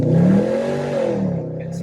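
High-mileage V8 car accelerating hard in first gear, a loud close engine roar climbing in pitch then easing off briefly near the end, with no one talking.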